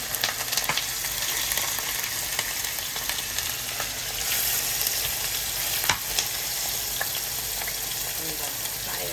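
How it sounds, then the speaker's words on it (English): Onions and garlic frying in a pan, a dense, close sizzle with crackling pops and occasional sharp spatters throughout. "I'm gonna fry it a little bit."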